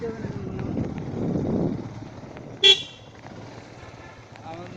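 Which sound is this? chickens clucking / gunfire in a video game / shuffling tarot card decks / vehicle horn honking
vehicle horn honking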